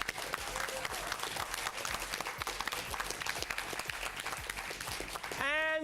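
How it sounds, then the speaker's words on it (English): Applause for a coach at a school quiz bowl match between Sacred Heart and Harker, a dense burst of many hands clapping, loud and continuous, with a voice starting to speak just as it ends. "Let's give a big hand to your coach, Mr. Kevin Morris."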